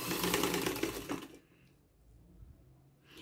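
Sewing machine stitching a fabric dish towel with a decorated border, a fast steady motor buzz lasting about a second and a half before stopping, leaving quiet room tone with a faint rustle near the end.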